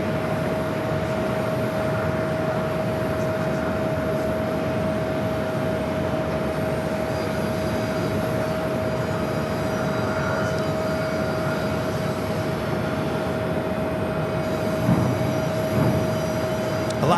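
An American Eagle airliner lands at Phoenix Sky Harbor, heard as a steady, sustained jet roar with a constant tone, holding its loudness throughout with no talk.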